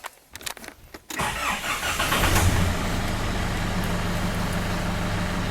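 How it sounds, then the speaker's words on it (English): A Nissan Patrol Y61 engine cranks after a few faint clicks, catches with a loud surge, and then settles into a steady, rumbling idle close by. "Okay, car's all started."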